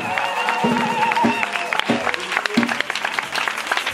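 A church congregation applauding a couple, a short burst of clapping and cheering mixed with a voice speaking over it, fairly close.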